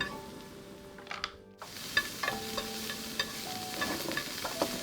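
Carrots stir-fried in oil in a pan for bibimbap, a moderate sizzle with periodic spatula scrapes and taps against the pan, starting after a short pause with light music underneath.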